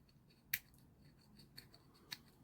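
A hobby knife trims excess plastic from a Sea King HU5 model kit part with short strokes, making quiet, sharp clicks and scrapes, three distinct snaps among faint scratching close to the microphone.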